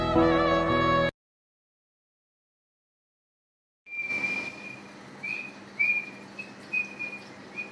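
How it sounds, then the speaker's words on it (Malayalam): After a short burst of music and a few seconds of silence, a person whistles a thin, wavering tune in short phrases over faint room noise. "ആരാ ചൂളം അടിക്കുന്നത്"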